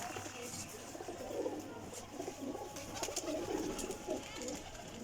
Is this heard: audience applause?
no